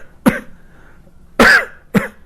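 Three sharp, dry coughs, one isolated and then a closer pair, each a short harsh burst with quiet between them.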